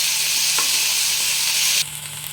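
Ginger, garlic and green chili paste frying in a pan, a loud dense close sizzle with a stirring scrape, dropping suddenly to a quieter hiss near the end; no voices.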